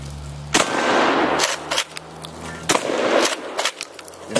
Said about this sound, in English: We'll shoot the big one there.